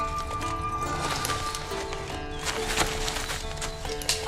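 Horse hooves clip-clop in The Witcher 3 video game, a steady trotting patter of hoofbeats over layered game ambience and music, with no talking.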